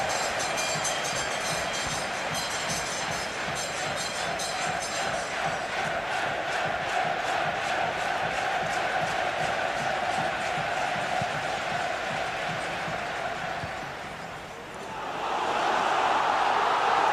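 A football stadium crowd at England v Switzerland in Euro 96 keeps up a dense, steady roar with rhythmic chanting, then swells louder near the end.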